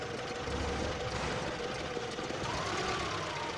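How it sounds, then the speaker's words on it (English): Old engine running steadily with its choke throttle fully opened, a continuous rough, dense mechanical drone with a faint rising whine near the end, close and loud with no speech. "I can totally open up the choke throttle, and the engine will have a very different behavior right here."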